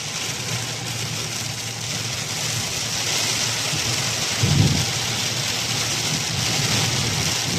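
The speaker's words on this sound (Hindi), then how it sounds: "बहुत ज़्यादा बारिश हो रही है।" Dense, steady hiss of heavy rain pouring down, with a brief low rumble midway; no voices.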